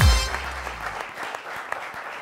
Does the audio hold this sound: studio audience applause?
yes